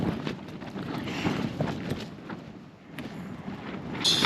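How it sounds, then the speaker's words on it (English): Steady wind buffeting and rushing across an open hilltop on Pen-y-ghent at night, gusting unevenly with a rumbling roar against the microphone. "So I knew it was going to be quite windy up here tonight."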